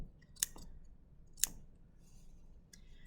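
Scissors snipping loose threads on a dress lining: two faint, crisp close snips about a second apart in a quiet room, followed by light rustling.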